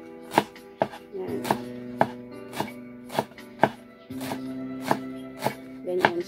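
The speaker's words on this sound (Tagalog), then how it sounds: "Hiwain ko rin po siya ng maliliit din." Knife chopping sweet potato leaves into small pieces on a board, a rapid uneven series of sharp close thuds with brief pauses, a voice saying a single word once.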